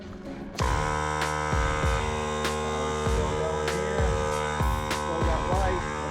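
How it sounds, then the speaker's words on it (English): An air compressor powered from a lithium battery setup while working on a UTV starts up and runs with a steady loud motor hum, with a regular thumping pulse roughly every three quarters of a second, alone throughout. "Let's turn the air compressor on."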